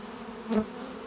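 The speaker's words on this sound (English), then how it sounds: "because this is a lot of bees" Honeybees hum steadily close by at a hive, one buzzing louder as it passes near for a moment, then fading back into the low drone.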